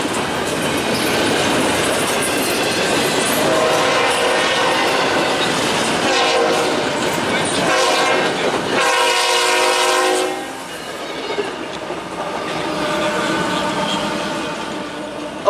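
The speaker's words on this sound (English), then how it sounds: "Okay, where did this train came from?" A freight train hauled by SD45T locomotives rumbles loudly past with a continuous roar, clattering wheels and a blaring horn partway through, heard close by without any talking.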